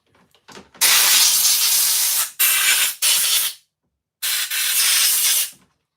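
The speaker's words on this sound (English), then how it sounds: "take my air and put it down in the bucket and spray it with air" Compressed air blasts into a bucket of Johnson 10 HP outboard carburetor parts, a loud close hissing spray in several bursts of about a second or more, with short silent gaps between.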